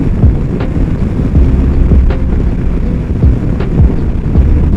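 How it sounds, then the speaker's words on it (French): Steady wind buffets the microphone outdoors in the Dordogne, a continuous low rumble with gusty swells throughout and no talking. "Il y a du vent, hein."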